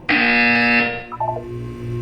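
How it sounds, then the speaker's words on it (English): A harsh, loud buzzer in Portal 2 blares for under a second, followed by a short descending electronic tone and a low hum, with no talk. "You will hear a buzzer."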